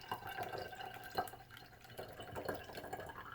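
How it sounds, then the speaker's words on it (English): Green juice made with coconut water dripping through a strainer, a quiet series of irregular close drips and small splashes over a faint background hum. "I'm going to pour it in the strainer"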